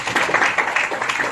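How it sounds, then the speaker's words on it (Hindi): Children clap together in a classroom, a fast, dense patter of many small hands that comes in uneven waves and carries steadily through the whole short burst. "बच्चे ताली बजाओ भैया"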